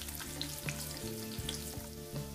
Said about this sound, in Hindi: लहसुन, अदरक और इसको अच्छे से भून लेंगे।